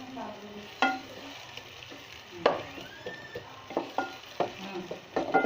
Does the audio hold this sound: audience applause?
no